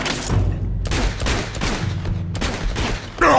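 Gunfire in the video game Uncharted 2: a dense, continuous volley of rapid shots and bursts, loud and close, filling the whole stretch with a heavier blast at the end.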